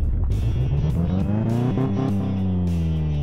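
A Jeep Willys MB engine in Car Mechanic Simulator 2018 strains and revs on a steep offroad hill, the pitch climbing and falling in several loud surges with no talk.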